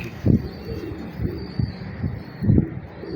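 A pigeon coos close by in soft, low repeated calls, several throaty pulses spaced irregularly over a few seconds with a quiet background.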